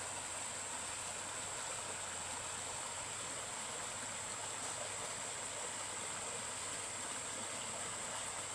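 A small mountain waterfall pouring into a stream makes a steady, even rush of water that carries on throughout without voices.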